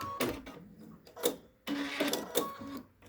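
A sewing machine stitching a pleat on a fabric face mask, several short bursts of rapid mechanical chatter separated by pauses, close and fairly quiet.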